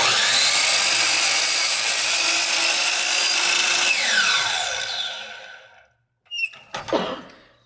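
A power saw cuts a wooden board to length, a loud, steady whining rasp that runs for about five seconds before winding down, then a few short scraping knocks as the piece is handled, with no speech.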